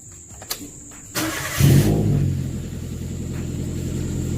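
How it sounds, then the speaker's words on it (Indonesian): A 2014 Toyota Avanza G 1.3 with a manual gearbox is started. There are a couple of clicks, a short starter crank, and then the engine catches and settles into a steady, close idle. "Kita coba ngidupin mesinnya"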